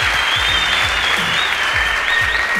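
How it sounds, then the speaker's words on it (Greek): A loud, steady wall of audience applause at a live event in Greece, dense and close, holding evenly without a break. "είναι το πρώτο μου χειροκρότημα εδώ στα ελληνικά εδάφη"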